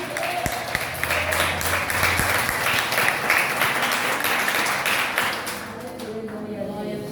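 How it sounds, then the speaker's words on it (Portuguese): A church congregation at a prayer circle gathering bursts into sustained, dense applause with scattered claps, fading slightly near the end, while voices carry on beneath it. "Aplauda o Senhor Jesus."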